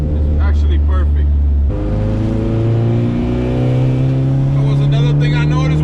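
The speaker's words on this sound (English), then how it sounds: "It's deep, but it's not like obnoxious, the exhaust, so it's actually perfect." A Honda Civic EG revs through a deep but restrained aftermarket exhaust, a loud close engine drone that drops and then climbs steadily in pitch, with someone talking over it.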